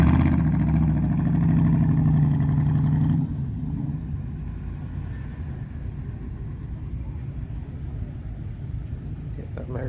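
An unidentified American classic car passes at a breakfast club meet, its loud, deep engine rumble strong for about three seconds before falling back to a steady lower drone.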